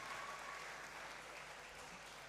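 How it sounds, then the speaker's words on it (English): An audience at a School of Pharmacy white coat ceremony claps steadily for the preceptors, a faint, distant, even wash of applause throughout. "Shall we please clap for our preceptors?"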